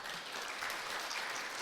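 Church congregation applauding during a Sunday university-church service, a dense, steady wash of clapping that fills the short stretch at moderate distance.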